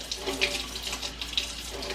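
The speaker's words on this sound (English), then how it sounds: "Just run a little bit of cold water, nice and slow." Cold tap water runs slowly and steadily over a roasted jalapeno, a close, continuous splashing trickle with no talk over it.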